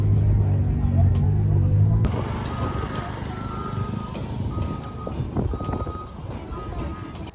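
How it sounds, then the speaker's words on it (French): Old-style buses at a busy bus station beside a market in Guatemala: a loud, close diesel idle rumble gives way to steady traffic and engine noise, with voices in the background. "il y a les bus partout, vraiment. C'est la gare."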